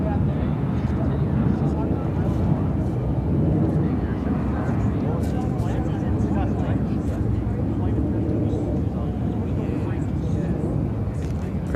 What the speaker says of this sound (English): This is Atlas Air 8710 coming in from Anchorage.